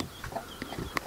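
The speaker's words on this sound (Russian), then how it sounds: "Короче, дура Валентина вывела троих цыплят." Chickens on a village farm cluck in short, soft calls, a few scattered bursts heard close but faint over quiet background.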